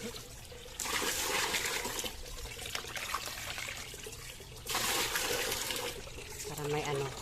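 Running water pours steadily from a tap to fill a container for watering plants behind a house, rushing in two long stretches with a short quieter gap between them.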